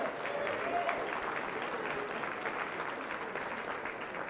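Applause from an audience at a charity auction comes as a soft, steady wash of many hands clapping, fairly distant and continuous for a few seconds.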